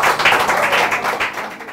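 A studio audience at a Bible quiz show, a church team contest between the Salvation Army and Pentecost, applauds a departing contestant with a loud, dense wash of clapping that fades slightly toward the end.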